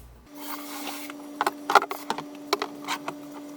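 A used aquarium's outside and black trim are scrubbed, short rubbing and scraping strokes close by over a faint steady hum.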